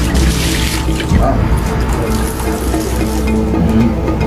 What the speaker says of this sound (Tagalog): Tapos, buhos na lang yung tubig nun.